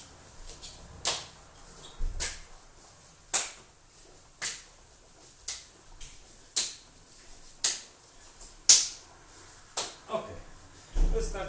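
Hand claps during an exercise training session: about a dozen sharp, close claps land at a steady pace roughly one per second, separated by quiet gaps.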